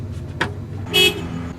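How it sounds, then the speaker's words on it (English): A single short car horn honk sounds close by, preceded by a brief thump, over a low steady background hum. "what you guys just heard honk over there"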